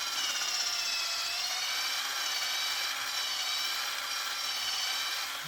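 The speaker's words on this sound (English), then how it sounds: "Drill in an inch, and you can probably see the sap coming out." A hand or power drill bores an angled tap hole about an inch into a maple tree trunk outdoors, giving a steady, continuous high whine with no breaks, close and fairly quiet.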